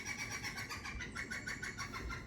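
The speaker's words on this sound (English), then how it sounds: "I guess it's a really loud woodpecker." Outdoors, a loud woodpecker pecks in a fast, regular train of sharp knocks that repeats across the whole moment, moderately distant over faint ambient noise and without speech.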